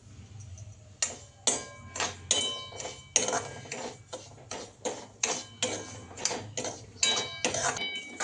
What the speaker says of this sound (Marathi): ह्यामध्ये रवा चांगला भाजून घेते.